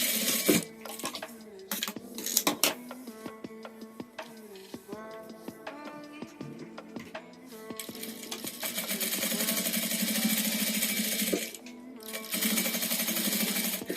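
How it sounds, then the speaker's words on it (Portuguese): Sewing machine stitching a seam on fabric scraps for a scrap-fabric wastebasket, running in close rapid mechanical bursts with brief pauses, then a long steady run near the end. "Sempre tendo cuidado de fazer a costura bem retinha."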